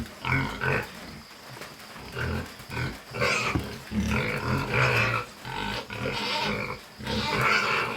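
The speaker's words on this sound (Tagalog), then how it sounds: "Ayan ang ating baboy." A pig that is having trouble defecating grunts and snorts close by in repeated short bursts, with brief pauses between them.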